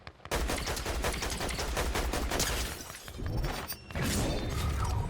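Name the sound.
gunfire in video game Fortnite, player shooting guards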